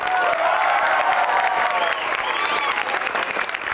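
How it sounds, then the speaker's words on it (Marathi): A packed crowd at a Ghatkopar, Mumbai mandal event breaks into loud, dense applause, a continuous burst of clapping that stays strong throughout with a little cheering mixed in. "तुमच्या सगळ्यांसाठी एकदा टाळ्या जोरदार"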